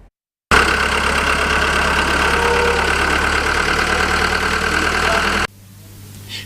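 Tractors idle steadily in Karamoja's north-eastern region, a loud sustained engine drone running unbroken for about five seconds before cutting off abruptly into quieter background.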